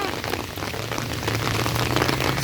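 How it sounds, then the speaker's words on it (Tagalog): Steady rain falls on a surface while someone walks under an umbrella among blooming flowers, a loud, dense, continuous patter close by with a low rumble beneath and no talk. "Some more raining."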